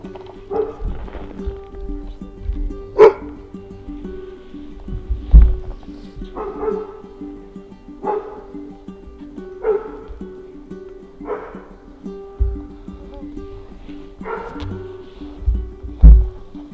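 Dogs and a puppy near Denali, Alaska bark in single sharp barks spaced a couple of seconds apart, fairly close and repeated steadily over a quiet low rumble.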